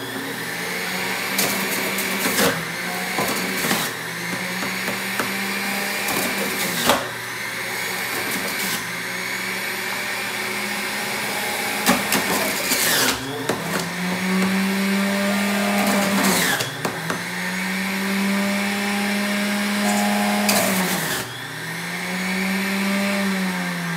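A juicer grinds pineapple and green apples, a loud motor whine that rises and strains in repeated surges as each piece is pushed through, close and continuous.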